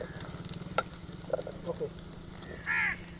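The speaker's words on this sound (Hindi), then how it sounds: "हम लोग करते हैं यहाँ पे अंडे को फ्राई, ये हमारा ऑयल गर्म हो रहा है" Eggs fry in hot oil at a riverside campsite on the Indus, a soft steady sizzle with a few clinks and scrapes of stirring, with occasional bird calls in the background and a brief voice near the end.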